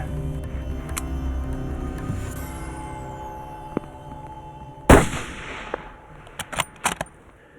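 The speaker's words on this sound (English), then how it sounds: "He's clear, go ahead and take a shot." A single sharp rifle shot cracks out mid-clip during a moose hunt in a remote corner of British Columbia, followed by a few smaller metallic clicks and clunks, with quiet brush ambience before it.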